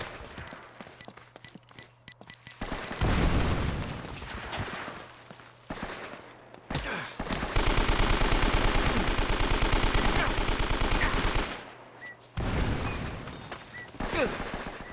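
Rapid gunfire and a sustained, roaring explosion blast in the video game Uncharted, with bursts of shooting on either side and a steady low hum.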